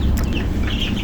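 Eight-day-old broiler chicks chirp and peep together in a brief, close, busy burst.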